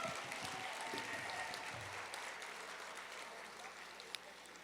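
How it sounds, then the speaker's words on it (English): Audience applause at a winter gala for women in an awards ceremony setting, a steady dense wash of clapping from a crowd at moderate level, fading slightly toward the end. "Let's give him another round of applause."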